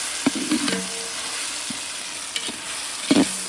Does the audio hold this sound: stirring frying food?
yes